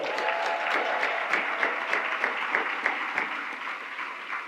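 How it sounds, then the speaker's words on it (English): Sustained audience applause at a women-in-leadership awards event, many hands clapping in a dense, steady wash with sharper claps poking through, loud and close, with no talk over it. "Give him one more round of applause."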